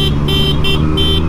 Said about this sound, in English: See, I hit that horn way ahead of time, man.